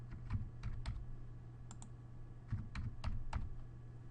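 Keys clatter on a computer keyboard in quick irregular bursts of typing, faint and close, with short pauses between groups of keystrokes while entering a name and password.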